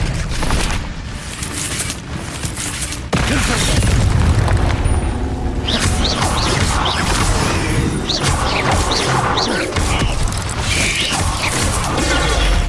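Spell explosions from the video game Hogwarts Legacy pile into dense booms, crashes and magical impacts. The result is a loud, continuous battle wash that swells sharply after a brief quieter opening.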